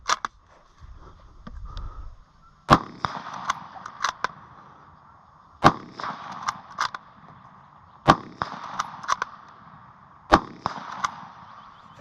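Four sharp shots from a CZ 527 .223 carbine rifle fired outdoors at a few-second interval, each followed by mechanical clicks and clacks of the bolt action being cycled.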